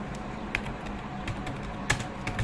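Code being typed on a computer keyboard, a steady run of close, soft key clicks with a few louder strikes, no voices.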